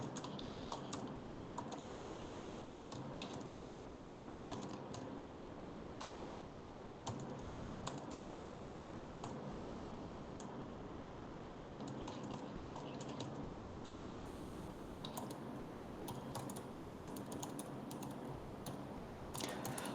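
Code typed on a computer keyboard as a continuous run of light, fast key clicks, faint and steady under a low background hiss.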